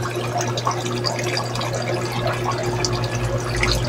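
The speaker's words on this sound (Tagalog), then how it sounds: "Tapos, adjust natin yung flow. Lalakasan natin." Steady trickle and splash of water flowing into a tubifex worm holding tank as the flow is turned up, a constant close watery wash with a low hum underneath and no talk.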